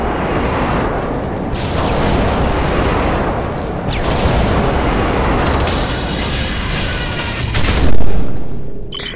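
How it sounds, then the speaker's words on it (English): Airstrike explosions from Call of Duty MW3 on a village map, a sustained roar of heavy booms and rumbling blasts for several seconds, with a louder burst near the end. "Airstrike on the way."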